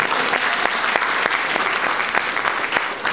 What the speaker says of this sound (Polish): Teraz proszę o klaski.